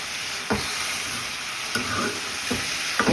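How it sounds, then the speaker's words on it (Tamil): A spoon stirs cooked snake gourd curry in a hot pan, giving soft scraping strokes about once a second over a constant, gentle sizzle. "நல்லா கிண்டி விட்டுருங்க."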